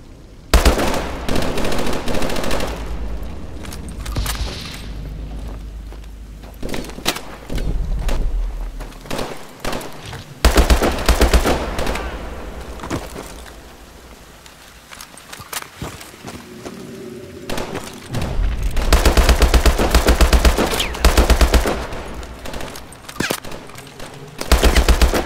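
Loud gunfire in the video game Call of Duty Advanced Warfare: sustained automatic bursts and shots, broken by short lulls, with quieter rustling movement in between.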